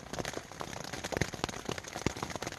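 Rain pattering on tents at a cold, wet camp on the Pacific Crest Trail, a steady close patter of drops with scattered louder taps throughout.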